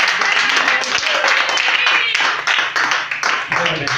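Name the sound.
congregation clapping in acclaim at an engagement ceremony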